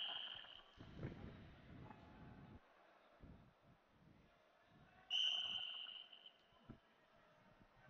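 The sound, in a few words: referee blowing whistle at wrestling match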